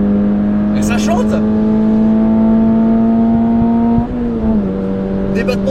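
A stock Toyota GR86 sports car engine held at a loud, steady high-revving drone heard from inside the cabin, dipping briefly in pitch near the end as it shifts, with someone talking over it.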